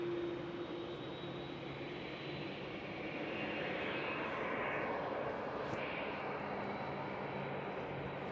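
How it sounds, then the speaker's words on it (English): A KLM Boeing 787-10 in 100-years livery passes at Amsterdam Schiphol, its engines giving a steady, broad roar that holds at an even level and swells slightly midway, with no voices over it. "There goes the KLM 100 years livery 787-10"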